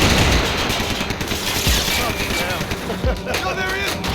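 Dense, continuous gunfire from a Max Payne 3 shootout, loud sustained bursts of shots layered with game noise and voices talking throughout.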